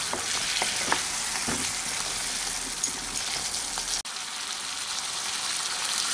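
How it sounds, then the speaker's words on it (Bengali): Potatoes sauté in a pan with Kashmiri red chili powder and turmeric, a continuous loud hiss of frying with a few scraping stirs early on, steady and close with no talking. "এখন এই সব মশলার সাথে ভালো করে এই আলুটাকে একটু কষিয়ে নেব"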